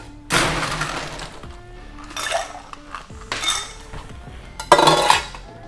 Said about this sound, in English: I'm gonna add some ice really quick.